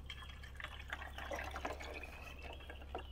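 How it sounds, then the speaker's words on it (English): Water poured from a measuring cup into the reservoir of a Chulux K-Cup single-serve coffee maker, a soft continuous trickle with small splashes and drips, close and quiet, no talking. "I'm going to pour the water"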